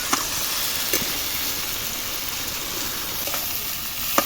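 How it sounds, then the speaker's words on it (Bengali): Potatoes added to duck meat sizzling in a pan, giving a steady, loud frying hiss with a few faint clinks of stirring and no talk. "এবার আমরা মাংসে আলুগুলো দিয়ে দেবো।"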